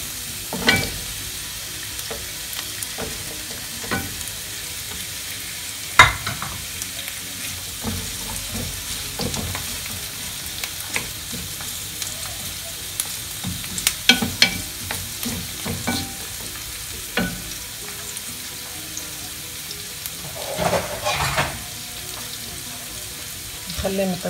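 Onion and carrot fry in olive oil in a metal tajine, a steady close sizzle with occasional scrapes and stirring clinks over it, no voices.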